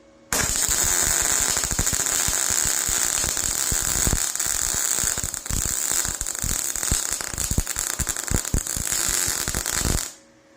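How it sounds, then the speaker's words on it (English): A VEVOR MIG 270 welder joins angle iron to square tubing, giving a loud, steady crackling buzz that holds for about ten seconds and then cuts off. "So we're just going to weld this piece of angle iron to this piece of square tubing."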